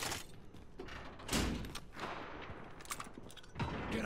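Video game gunfire aimed at a character, heard as scattered shots and thuds at low volume, with bursts spread across the clip among background game sounds.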